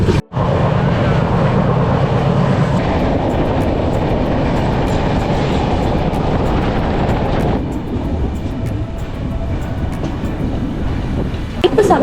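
The Mandovi Express running on the Konkan Railway between Mumbai and Goa, heard as a loud, steady rumble and rattle of the moving train that eases slightly partway through and carries on to the end.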